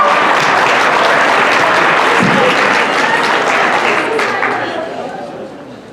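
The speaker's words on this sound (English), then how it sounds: "All right, another round of applause." A school assembly audience at Winslow High School claps loudly in a dense, sustained burst of applause that holds steady for several seconds before tapering off at the end, with faint voices mixed in.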